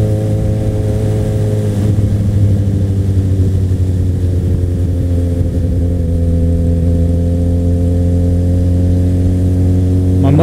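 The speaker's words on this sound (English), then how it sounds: "My muffler fell off," A motorcycle whose muffler has fallen off idles and revs loudly, a raw, deep, rumbling unmuffled roar, steady and close throughout.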